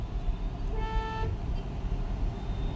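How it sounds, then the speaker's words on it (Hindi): A car horn sounds once in a single steady honk of about half a second, heard from inside the car over the low rumble of the engine and road during night traffic. "अब इसको लॉन्ग हॉर्न प्रेस करो।"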